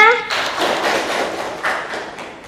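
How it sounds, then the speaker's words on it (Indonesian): A classroom of students claps after a group presentation, loud close applause that starts abruptly after a short spoken cue and then gradually fades. "Baik, tepuk tangan semuanya."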